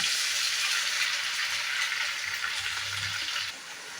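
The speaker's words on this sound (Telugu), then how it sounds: "ఇలా ఒకసారి ఫ్రై చేసుకొని ఇందులోకి టమాటాలు వేసేసుకుంటున్నా" Onions, green chillies and tomatoes fry in a pan for a gongura chicken curry, giving a steady, close, bright sizzle that eases off slightly near the end, with no voices.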